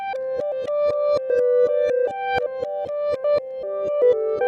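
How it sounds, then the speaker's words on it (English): An Old Blood Noise BL44 pedal adds reverse effects to a plucked melodic line, whose steady, close notes ring in an even rhythm and swell slightly at their tails, with no talking. "Then I sent it through the Old Blood Noise BL44 for some reverse sounds."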